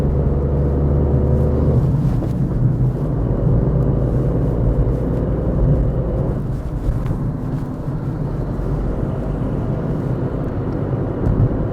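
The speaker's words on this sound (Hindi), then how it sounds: "आप कार का पिकअप देखिए" A Tata Tigor CNG car accelerating on an expressway with four people aboard and the air conditioning on, giving a steady, loud low engine and road rumble with wind noise throughout and no talking.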